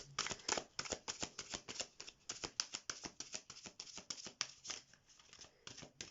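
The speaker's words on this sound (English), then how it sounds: "Let's give it another shuffle." Tarot cards being shuffled by hand, a soft close-up flurry of quick papery riffles and slaps in irregular bursts, fairly quiet with no talking.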